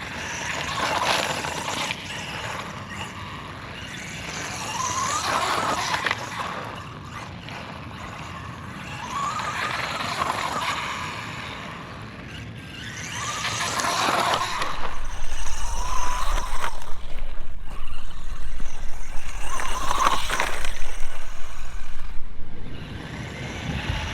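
A small RC Ford Bronco, the FMS FSC18, rolls over rough pavement with a gritty rumble and whirring motor that swell and fade in repeated passes, growing louder and steadier toward the end, with no talking.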